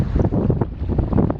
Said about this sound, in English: Boy, those are some good waves.